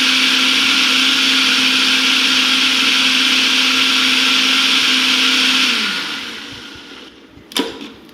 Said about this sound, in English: Sauce is ready to be blended.